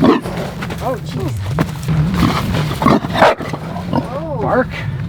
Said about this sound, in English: She like barked at me.